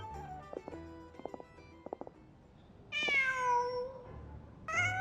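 A cat in Genshin Impact gives a drawn-out meow, then a second one starts right at the end, both clear and close, following a stretch of soft clicks and low rumbling.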